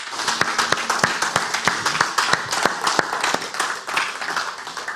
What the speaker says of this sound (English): How about another round of applause for them?